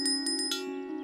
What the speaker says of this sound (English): I've got Percy's lucky bell.